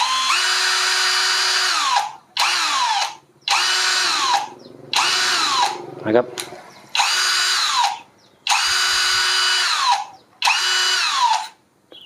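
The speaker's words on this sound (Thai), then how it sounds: "ถ้าคนที่ใช้สว่านบ่อย ๆ ก็ฟังเสียงก็น่าจะรู้นะครับว่า มันประมาณไหนนะครับ" An imax cordless drill revs in repeated loud, close bursts of about a second each, winding down between pulls of the trigger, with a few spoken words.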